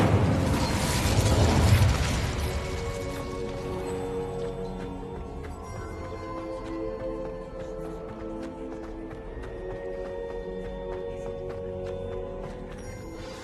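Incendio fire spell cast in Hogwarts Legacy, a loud fiery burst at the start that fades into a lingering crackle over a sustained tonal musical background, no talk.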